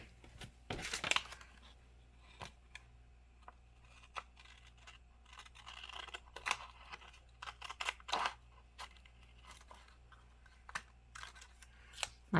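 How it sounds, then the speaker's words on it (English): Scissors snip through washi tape at a desk during a bullet journal planner tip-in, a few short crisp cuts with paper rustling and handling around them, close and fairly quiet. "I'm just going to grab my scissors so I can cut this off."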